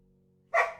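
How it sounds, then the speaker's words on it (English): A dog gives a single loud, close bark after a quiet stretch of faint background hum. "Hey, stop barking."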